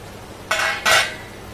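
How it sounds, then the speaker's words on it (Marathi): A metal lid comes off a cooking pot of beetroot barfi in two quick scraping clinks, close and fairly loud, with no voices over the short moment. "आता झाकण काढून बघूया आपण।"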